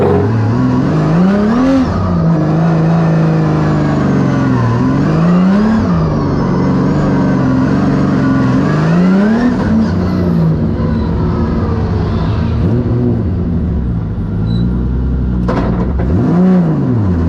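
Formula Drift car at a skills battle accelerating hard with nitrous on, its engine loud and near, rising and falling repeatedly through revs and gear changes as it slides, with no voices over it.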